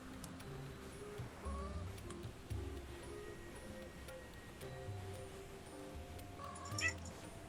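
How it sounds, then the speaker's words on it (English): A cat meows faintly in the background, a few short rising cries set against a steady outdoor hiss and low rumble, with no talking. "You hear a cat in the background."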